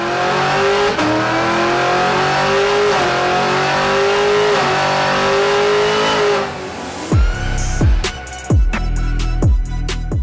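A GM Gen 5 LT4 V8 fitted with a Harrop TVS2650 supercharger kit drones loudly and steadily, then breaks into several sharp, rising rev blips that fall away quickly, close up with no talking.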